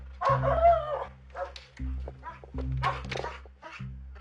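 A police K9 dog barks in repeated loud, close bursts at an arrest scene, irregular barks and yips spaced across the moment with a low idling hum underneath.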